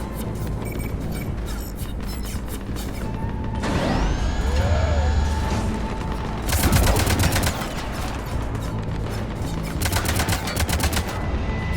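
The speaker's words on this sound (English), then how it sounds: "Cannons engaged." Heavy cannons firing during a battle in the video game Mass Effect 3 on Omega, with loud repeated blasts and bursts of rapid gunfire over a mechanical din, alongside whining and sweeping tones.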